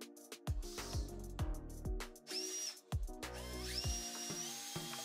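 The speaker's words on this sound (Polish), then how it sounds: "w tym przypadku wkrętakiem nie udało się w pełni wkręcić wkręta 5x70 mm" Bosch Flexiclick 12 V brushless cordless drill driver (GSR 12V-35 FC) driving a 5x70 mm screw, its motor whining in several loud bursts that rise and stop, with short pauses between runs.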